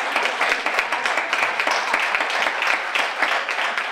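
Audience applause, dense and continuous clapping from a crowd filling the whole moment at an even, lively level.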